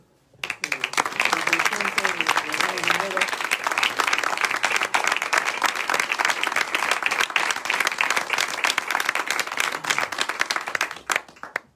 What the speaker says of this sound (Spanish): Un aplauso para Edu